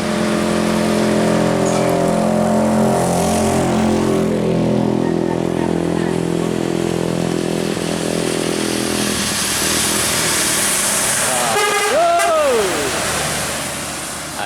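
Loud, continuous engine rumble of buses on a wet road in West Sumatra, with a rising and falling horn-like tone near the end as traffic passes.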